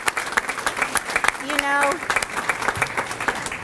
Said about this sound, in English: I'd like you to give a round of applause